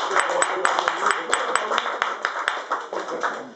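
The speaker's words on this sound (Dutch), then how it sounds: "Applaus Jasper" A small audience claps for Jasper, a brisk, uneven patter of hand claps close by, sustained throughout with a voice briefly mixed in.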